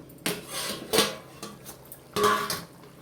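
A metal lid lifted off a cooking pot of egg curry, giving a few close, light clanks and scrapes of cookware in a quiet kitchen.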